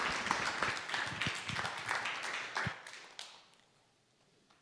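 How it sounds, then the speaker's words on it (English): An audience at a live-streamed talk event gives the panelists a round of applause, a scattered clapping that stays moderately loud and then fades away to near silence. "let's all take a moment to thank our panelists once again with a round of applause"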